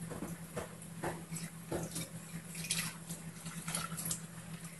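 Running water streams steadily over a stainless steel pot being washed in a sink, with a continuous splashing hiss and faint, irregular clinks and drips.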